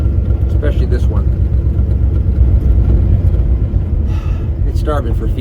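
A 1950 Cadillac hearse engine runs rough and starves for fuel, a loud, steady low rumble close by with uneven surges, and someone talks over it.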